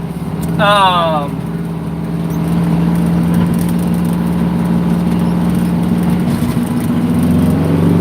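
A car engine with a small exhaust leak drones steadily at idle and low cruise, a constant low hum with a faint raspy edge that holds throughout.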